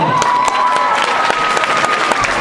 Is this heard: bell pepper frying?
no